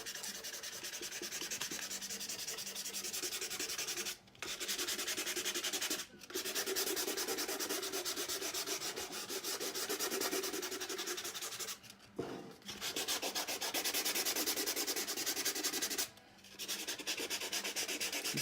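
Steady hand sanding of a painting's beeswaxed surface, a continuous rough rubbing scrape that pauses briefly a few times before resuming, close and fairly loud.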